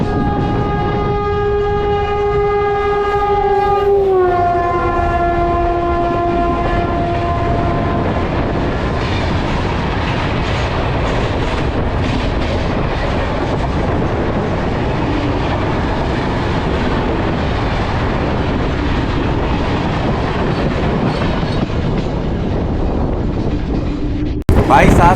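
Garib Rath Express train 12612 pulls out of Gwalior station with a sounded horn, then continuous loud rumbling and clattering of the coaches, heard close by from on board.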